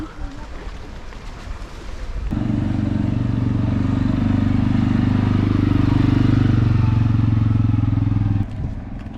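Scooter engines droning loudly through the narrow streets of Kassiopi on Corfu, a sustained close buzz that swells in after a quieter stretch and fades near the end.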